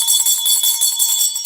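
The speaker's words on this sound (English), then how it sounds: "so let's ring the bell." A bell rings steadily with a bright, sustained metallic tone and rapid repeated strikes, loud and close, with no talk over it.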